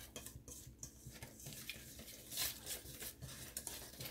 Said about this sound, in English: Then we just gonna stir that up